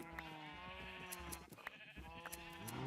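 Sheep in a Minecraft-style world bleat repeatedly with wavering, nasal cries, several overlapping calls close by against a faint background.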